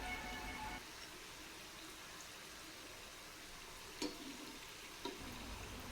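Urad dal murukku frying in hot oil, a faint, steady bubbling sizzle with two short taps or turns of the spoon partway through.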